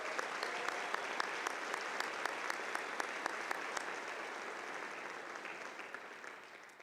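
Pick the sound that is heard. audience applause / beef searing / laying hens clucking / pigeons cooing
audience applause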